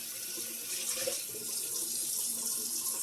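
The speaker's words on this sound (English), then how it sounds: "I'm rinsing all the vegetables out" Tap water runs steadily into a kitchen sink while vegetables are rinsed under it, a continuous close hiss and splash filling the whole three seconds with no voices.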